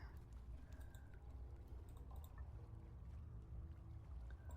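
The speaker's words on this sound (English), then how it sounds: "I didn't need to pour algae water on that." Algae water poured in the video game Foolish Mortals, a soft, steady liquid wash that runs continuously, faint and even throughout with no voices.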